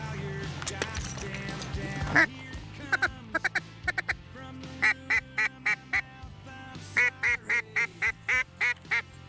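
Four mallard ducks quack in a series of short, evenly spaced calls, fairly close, over a low steady background hum.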